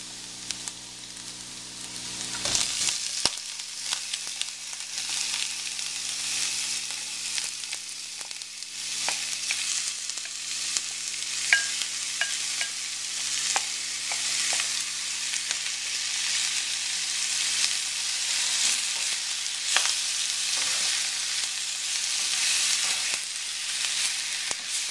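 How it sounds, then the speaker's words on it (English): Fish searing in a pan with translucent cooked onions for a Sri Lankan sour fish curry, giving a steady, close sizzle and crackle throughout, with occasional stirring clinks and no talking. "We get a nice sear going on the fish"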